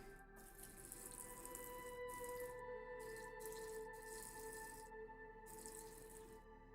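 Water trickles and splashes as it is poured into a tarantula enclosure during a feeding, a steady close pour with faint dripping and brief pauses.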